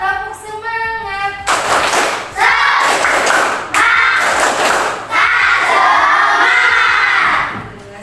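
A schoolroom class performs the 'tepuk semangat' clapping chant, many children's voices chanting loudly together in bursts, punctuated by sharp rhythmic claps and thumps, close and energetic.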